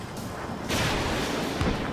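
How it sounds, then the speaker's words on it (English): Anti-ship missile launch in the air combat video game Ace Combat 7, a sudden loud broadband whoosh and roar that starts partway through and sustains over a low engine rumble to the end. "Launching anti-ship missile."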